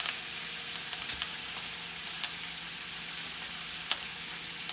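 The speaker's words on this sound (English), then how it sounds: "add the steak back into the pan with our butter, our herbs, and our garlic cloves that we're just gonna crush" Ribeye steak sizzling steadily in a pan with butter, herbs and crushed garlic cloves, a continuous close hiss with a few faint clicks and no talking.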